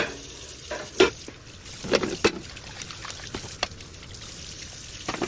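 Running water rinses dishes in a sink, with splashing and trickling, a few sharp knocks of plates being handled, and irregular bursts of flow throughout.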